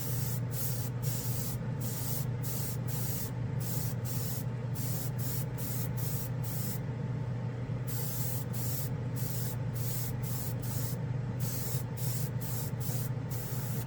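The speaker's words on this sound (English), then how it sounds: "It's Tamiya black spray paint." Tamiya black spray paint hisses from an aerosol can in a long string of short, closely repeated bursts with brief gaps, loud and near against a steady low background hum.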